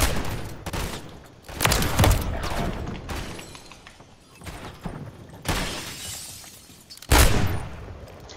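Gunfire from the video game Call of Duty Modern Warfare 3: several loud, sharp bursts of shots, with a brief quieter lull between them and a final heavy volley.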